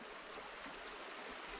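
A steady, soft wash of a brook flowing beside a hiking camp near a bridge, a continuous broadband rush with no voices.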